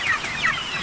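A few short, nasal clucks from chickens, close and fairly loud, in a brief burst.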